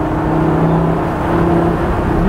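A Lamborghini Gallardo LP560-4 engine revs on throttle, a loud close tonal drone that holds steady, then sweeps upward near the end, with no talking.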